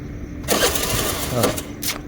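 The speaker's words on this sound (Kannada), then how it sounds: "ಸ್ಟಾರ್ಟ್ ಮಾಡಿ ಫಸ್ಟ್ ಗಾಡಿ." A motorbike engine starts and revs in a couple of loud bursts up close, while people talk over it.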